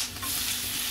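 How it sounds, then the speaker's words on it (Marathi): Tomatoes go into a hot pan for a bhendi mirchi dish and start frying. The hiss is loud, steady and close, and there are no separate impacts. "टोमॅटो घालते।"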